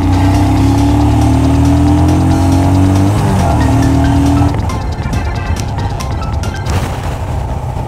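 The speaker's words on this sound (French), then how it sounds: "Alors attention, accélération à fond maximale." A Royal Enfield motorcycle revs hard at full throttle, its engine note rising in pitch over several seconds before a gear change, then settling into a loud, rough drone up close.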